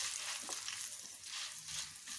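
Dried red chillies hit hot oil for a lentil and drumstick-leaf curry, a brief, faint, steady sizzle with a crackly hiss and no talking.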